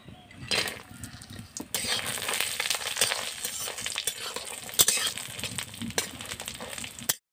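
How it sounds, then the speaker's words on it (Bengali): Lentil bori (dal badi) frying in oil in a wok, a steady broadband sizzle that starts softly, swells after a couple of seconds and crackles on with small pops until it cuts off. "এবার আমি ডালের বড়িটাকে ভেজে নেব।"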